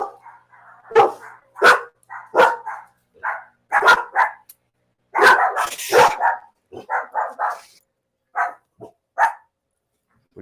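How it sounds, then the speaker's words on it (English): Dogs barking at a house with a screen porch, a rapid series of loud, close barks and yips in bursts with short pauses, several dogs overlapping in agitated volleys. "We got the dogs going crazy."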